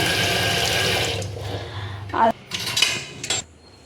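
Water runs and splashes while a milk vessel is rinsed out in a home kitchen, with clattering of metal utensils against a sink, the flow stopping and restarting in short bursts near the end.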